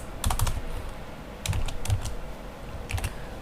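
Keys clatter on a computer keyboard in three short bursts of quick taps, separated by pauses, quiet and close, with no voices.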